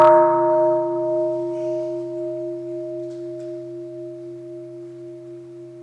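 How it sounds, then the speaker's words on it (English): A single mindfulness bell struck once at a mindfulness retreat for educators, a clear bright strike followed by a long, pure, slowly fading ring that sustains alone in a quiet room. "let's listen to one sound of the bell"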